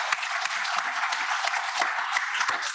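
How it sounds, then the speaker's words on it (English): A seated audience gives a speaker a big round of applause at a talk, a dense, even patter of many hands clapping close by with no pause. "Our first speaker, let's have a big round of applause for Dr. George Slim."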